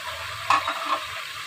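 Steady sizzling of beef and onions frying in a hot pan for bhuna gosht, with a brief stirring scrape partway through; close and continuous.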